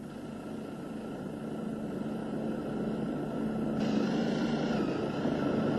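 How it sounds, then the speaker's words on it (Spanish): A helicopter sets down on the deck of a CEPSA oil tanker at sea, its steady rotor and engine drone holding constant with a distinct tonal whine, growing slightly louder toward the end, with no voices. "un helicóptero se posa en la cubierta del barco"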